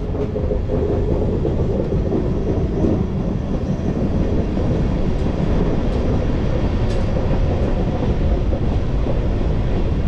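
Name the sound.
train running through Gorumara forest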